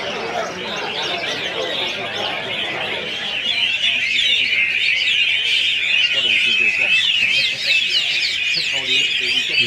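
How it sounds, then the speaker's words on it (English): A China thrush sings at a songbird competition, with bright, rapid warbling phrases running continuously over crowd chatter and the calls of other caged birds. "Here we have the China thrush, just starting to get warming up."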